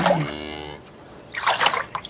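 Water trickles and splashes into a toy farm diorama as a cow figure is given a drink, a short soft pour with a brief splatter after a quiet gap.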